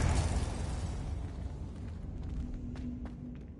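A Confringo blasting spell in the Hogwarts Legacy video game sets off a loud, booming explosion that opens the clip, then rolls off into a fading rumble and crackling debris, with a faint tone ringing underneath.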